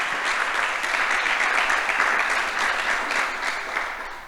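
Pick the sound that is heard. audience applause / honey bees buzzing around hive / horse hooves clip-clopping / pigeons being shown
audience applause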